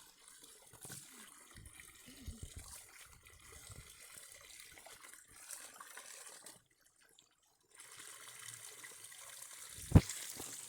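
Water flows and trickles steadily as young rural Lao women of the Mang Kong people fetch water, with a brief sharp knock near the end.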